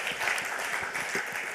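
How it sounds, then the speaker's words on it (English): Audience applause at a hacker congress lightning talks session: a dense, continuous patter of many hands clapping, fairly close and steady for the whole short stretch. "give the Rocket Badge guys a huge round of applause."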